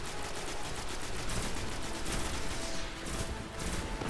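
Rapid gunfire from the Xbox One game Destiny, a dense continuous fusillade that stays loud and steady throughout without pause.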